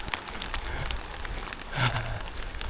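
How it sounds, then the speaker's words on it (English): Rain falls on a road on the Camino trail toward León, a soft diffuse patter with scattered drops and a brief louder splash partway through, fairly faint. "Oh, rain is beautiful."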